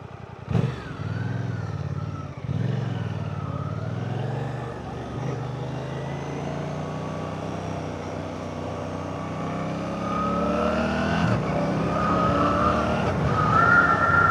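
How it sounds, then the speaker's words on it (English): A Suzuki GSX 8T motorcycle engine fires up at the press of a button and settles into a steady, loud idle, with the revs rising slightly toward the end. "Easy start, so just press of a button, you don't need to hold it, the bike starts."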